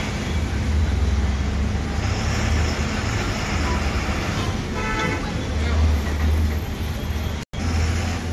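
An MSRTC Lal Pari bus on a night journey from Pune to Ratnagiri sounds its horn in long loud blasts over the steady rumble of the engine and road noise, with voices talking in the cabin.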